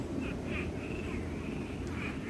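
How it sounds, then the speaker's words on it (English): Frogs croaking around a small pool at a campground, faint, repeated calls spread through steady outdoor background noise. "You can hear all the frogs."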